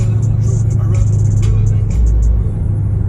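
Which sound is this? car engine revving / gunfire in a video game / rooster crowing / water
car engine revving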